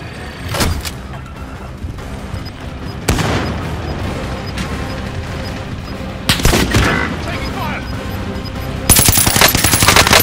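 Bursts of automatic gunfire in the Resurgence battle royale mode, several sharp loud volleys spaced a few seconds apart over constant game ambience, with a long rattling burst at the end.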